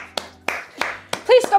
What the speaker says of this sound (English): Please stop talking so I can clap.